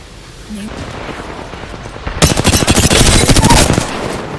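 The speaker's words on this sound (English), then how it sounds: "It's spotted me. I'm taking shots." Rapid automatic gunfire in the battle royale game Apex Legends, a loud burst of closely spaced shots lasting under two seconds after a quieter stretch of game ambience and faint earlier sounds.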